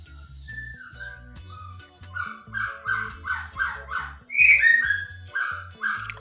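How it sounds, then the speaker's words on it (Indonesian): Birds call outdoors in a run of repeated whistled chirps over a low rhythmic background hum, the calls fairly close and steady, rising briefly louder near the end, with no talking. "sedikit gangguan burung"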